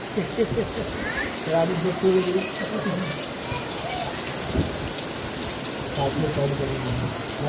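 First rain of the season falling in Mumbai, a steady dense patter of drops on surfaces close by, continuous throughout with people talking over it.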